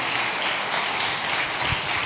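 Church congregation applauding together, a dense, steady wash of clapping that holds at an even level throughout with no pauses.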